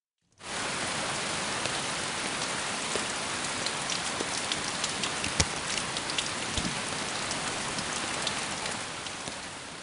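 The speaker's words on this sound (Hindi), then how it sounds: "बाहर बरसात हो रही थी" Steady rain falls outside, a dense, even hiss that holds at a constant level throughout with a few louder drops, and no voices.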